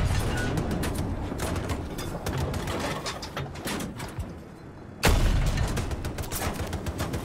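A light machine gun fires in Battlefield 2042, dense rapid bursts that go on without pause, briefly drop off, then start again loudly with a heavy burst.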